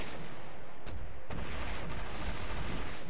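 Steady barrage of gunfire and artillery thunders across an eight-player free-for-all Army Men RTS battle, dense rumbling bursts with a sharp heavy blast near the middle, continuous and loud with no voices.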